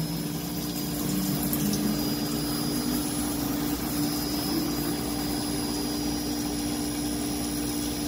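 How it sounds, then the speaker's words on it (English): A Kellenberger grinding machine's spindle turns with a steady, loud mechanical drone and a whining hum. The sound stays even and unbroken throughout, with no talking. "So our spindle's turning again"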